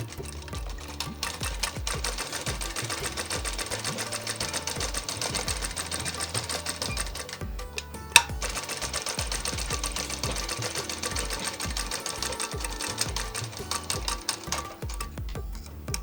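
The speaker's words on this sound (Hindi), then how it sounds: "यहाँ हमें डबल सिलाई करते वक्त ओवरलॉक करना बहुत ज़रूरी हो जाता है।" Sewing machine double-stitching and overlocking the shoulder seam of a kurti, a steady fast ticking hum running almost continuously, close and even, with one brief sharp click midway.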